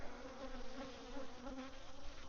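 Honeybees buzzing angrily around a beekeeper working an open hive, a dense and steady close-up drone of many wings with no voices.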